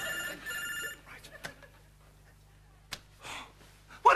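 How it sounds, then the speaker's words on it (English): Telephone bell ringing in a 1991 television comedy sketch, a short bright trilling ring at the start, then quiet with a few brief knocks and a voice speaking near the end. "Why didn't you answer that phone?"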